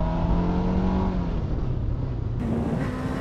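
Car on a mountain road climbing the Col de l'Espigoulier, engine droning loud and close as the driver gets back on the throttle with the rear wheels sliding, pitch sagging then rising with a gear change.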